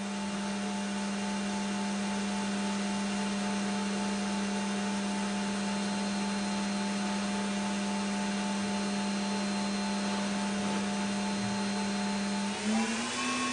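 A QP-1620L high-speed machining center spindle running at 12,000 RPM gives a steady, loud, unbroken whine with a strong constant hum, shifting pitch slightly near the end.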